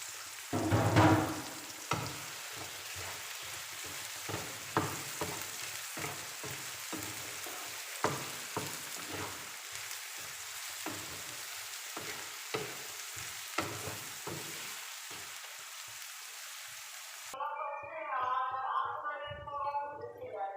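Chopped garlic and ginger frying in a pan, a constant close sizzle broken by repeated stirring clinks and scrapes, which ends abruptly near the finish, where faint voices take over.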